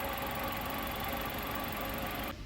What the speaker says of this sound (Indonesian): mesinnya masih halus ya